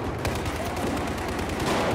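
Dense, continuous gunfire in the video game Battlefield 4, rapid overlapping shots forming a loud, steady barrage with no pauses.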